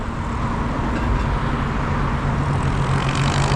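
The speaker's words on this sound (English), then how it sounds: "we're about to see a plane take off" A plane takes off at Hawthorne Airport, heard as a loud, steady engine roar with broadband rushing noise that stays strong through the short stretch.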